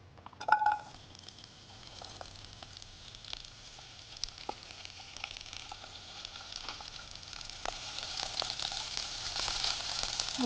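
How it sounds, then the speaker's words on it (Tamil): Chopped ivy gourd frying in hot oil, a soft, steady sizzle and crackle that grows gradually louder, with a few faint clinks of utensils near the start and no talking. "எண்ணெய் சூடான உடனே இந்த நறுக்கி வச்சிருக்க கோவக்காய்,"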